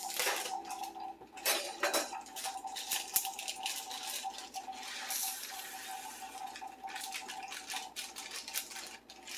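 Rice is added to a cooking pan, with close clattering and scraping of a utensil against the pan, irregular clinks and rattles over a soft sizzling hiss and no voices.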